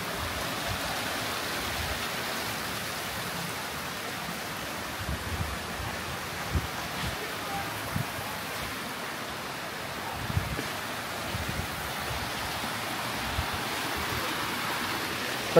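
Steady broadband rush of a mountain waterfall stream flowing down through a Medellin neighbourhood, carrying dirt and plastic, continuous and moderately loud with small splashy bursts and no talk.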